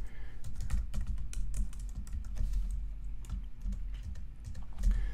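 Rapid, continuous typing on a computer keyboard in a quiet room, with close, crisp key clicks in an uneven rhythm throughout and no talk.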